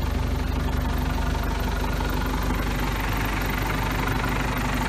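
The engine of a 2000 Ditch Witch JT2720 directional drill idles nearby with a steady, throbbing diesel-like rumble and rapid knocking pulse, unbroken throughout.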